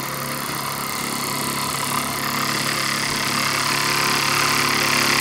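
A Jensen 85 model steam engine running steadily at high speed, giving a continuous close mechanical whir and hum that holds at an even level with no voices.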